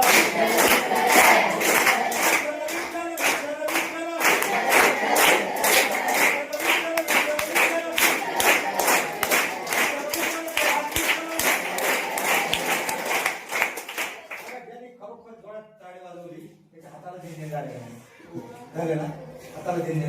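Class 10 students at Tapkir school in Kalewadi clap in a steady, loud, rhythmic beat while chanting "Vitthal" together. The claps stop partway through, and a voice carries on speaking alone.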